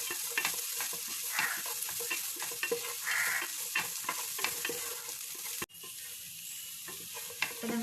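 Beans fry in a pan for egg fried rice while a spatula stirs them, a constant close sizzle dotted with light scrapes and taps, cutting briefly and then carrying on a little quieter.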